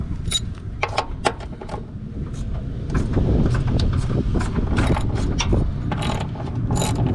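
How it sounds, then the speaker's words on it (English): Bolts are loosened and pulled out on a Toyota Tundra during a tube step install. Close, irregular ratchet clicks lead into a steady, loud mechanical rattling and grinding, with no talk. "So we're gonna pull those out and put the new bolts in."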